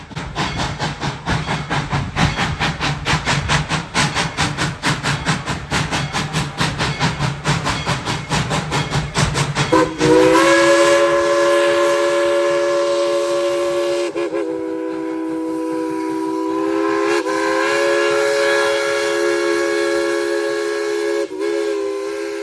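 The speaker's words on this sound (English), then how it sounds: "when the train started coming through" A heritage train at Tweetsie Railroad rumbles past with rapid rhythmic clatter, then a loud, sustained horn blares with steady harmonic tones that hold for several seconds.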